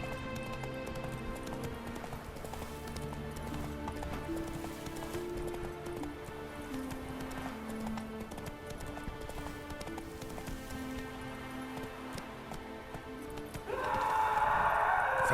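A horse gallops in The Witcher 3 with a steady, rapid clip-clop of hooves under game music, and the surroundings grow louder near the end.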